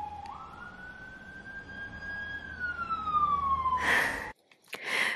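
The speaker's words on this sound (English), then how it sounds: "Got a little fire engine in the background." Fire engine siren, a steady rising and falling wail that slowly drifts in pitch, moderately loud in the background before cutting off into a couple of brief bursts of noise near the end.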